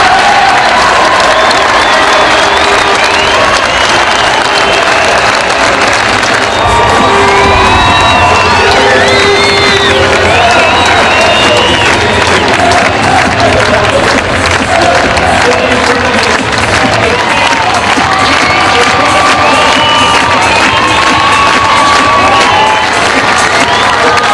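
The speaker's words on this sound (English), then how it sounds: "thousands of Saints fans turned out en masse to pay tribute to the back-to-back grand final winners as they paraded the gleaming trophy around the famous old ground" Thousands of St Helens Saints rugby league fans cheer, clap and whoop at Knowsley Road as the back-to-back Grand Final winners parade the trophy around the old ground, a loud, continuous crowd roar with applause throughout.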